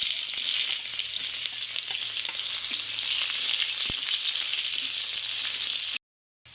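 Onions frying in a pan for a tribal-style egg and dal dish, a steady close sizzle with faint stirring scrapes and a single tap, cutting off abruptly near the end.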